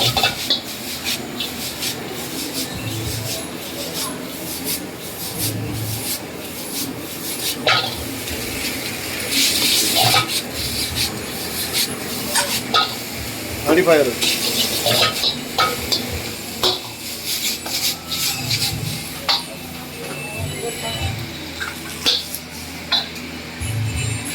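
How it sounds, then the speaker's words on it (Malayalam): Chicken noodles stir-fried in a pan with cabbage, capsicum and carrot, in the style of Chinese street food, with steady scraping and stirring, a light sizzle and occasional clanks of utensil on metal throughout. "cabbage, capsicum, carrot, chicken, noodles എല്ലാം കൂടെ നന്നായി മിക്സ് ചെയ്ത്"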